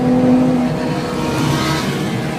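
Motorcycle overtaking a Ferrari at speed on the Nürburgring, a loud, close engine roar that holds a steady high pitch throughout.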